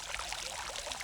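Water flowing and pouring steadily in a European-style botanical garden on Kauai, a continuous bright splashing wash with no pauses.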